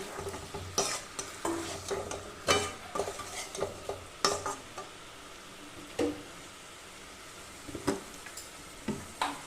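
Sautéed jackfruit is added to a prawn curry and stir-fried in a pan, with repeated scraping stirs and knocks of a spatula over a soft sizzle, close and irregular with no talking.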